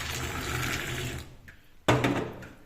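Milk and tea with the leaves still in are poured back and forth between vessels to mix, giving a steady splashing stream that pauses briefly, then a sharper, louder pour. No one speaks.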